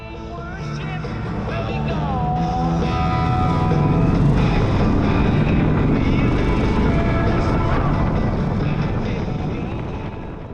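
Indian Roadmaster motorcycle riding, picked up by a helmet-mounted GoPro Hero 10: a loud, steady engine drone with rushing wind noise runs throughout, with rising and falling revs as the bike accelerates.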